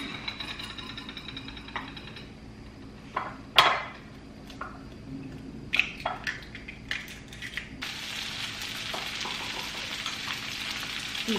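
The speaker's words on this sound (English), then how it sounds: "Our veggies are nice and hot. We can hear them sizzling." Hot vegetables for a frittata sizzle in a frying pan, a steady close crackle with a few sharp clinks of a utensil or pan. The sizzle grows brighter and louder toward the end.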